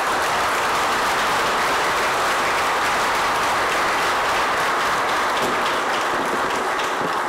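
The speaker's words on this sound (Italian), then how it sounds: "a cui desidero che facciate il primo applauso" Sustained applause from a congregation at the reopening of a church in Forcella, a dense steady patter of many hands that holds loud and even for the whole stretch.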